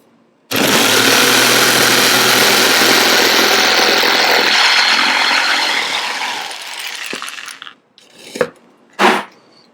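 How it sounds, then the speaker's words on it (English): A jigsaw saws straight through wood to cut out a barricade, a loud, steady buzzing cut running for several seconds before it winds down, followed by a few short clunks and bursts. "When you're using a jigsaw, you really have to commit."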